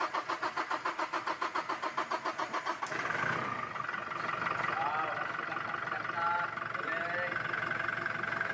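A 2019 Toyota Hilux with a 2GD diesel engine, just back from a timing chain repair, cranks in a rapid rhythmic churn for about three seconds, then catches and settles into a steady, close idle, with faint voices in the background.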